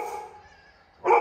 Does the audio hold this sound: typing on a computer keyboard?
no